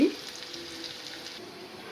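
Sliced bitter gourd fries in a pan with a steady, moderately loud sizzle after a brief initial clunk, continuing evenly with no talking.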